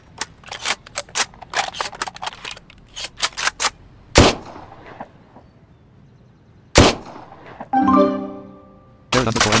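Shotgun fire in the audio game Bloodstorm: rapid bursts of sharp gunshots, then single heavy blasts separated by pauses, plus a brief ringing tonal effect near the end.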